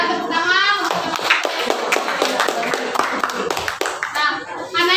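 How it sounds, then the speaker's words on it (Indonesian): Children clap their hands together in a classroom, a scattered burst of sharp claps under lively kids' voices and chatter. "Ya, tepuk tangan."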